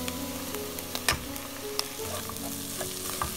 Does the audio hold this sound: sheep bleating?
no